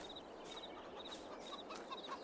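Chickens in a farm chicken coop cluck faintly and intermittently over a steady background hiss, with short repeated calls and no voices.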